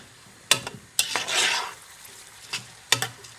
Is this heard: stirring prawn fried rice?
yes